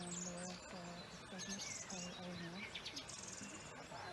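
An April dawn chorus: several wild birds chirping and trilling in overlapping bursts through the morning air, with people talking nearby over the birdsong.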